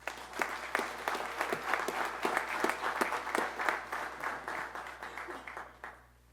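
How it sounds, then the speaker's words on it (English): Applause from the audience at a police promotions ceremony for newly sworn lieutenants and professional staff: dense, steady clapping from a sizeable crowd that carries on for several seconds, then fades away toward the end. "Let's give all of our professional staff and all of our ranking officers a big round of applause for their achievement today."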